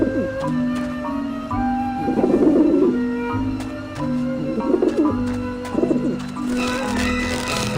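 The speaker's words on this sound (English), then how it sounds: "Run, you pigeons! Back off, birds!" Pigeons coo in Grim Fandango Remastered, several throaty, bubbling calls in bursts, close and loud over a steady tonal background of game music.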